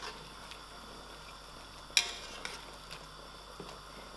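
Sugar beans curry with green chillies and tomatoes gets stirred in a pot: a quiet sizzle with a few sharp scrapes and clinks of a spoon against the metal, spaced irregularly.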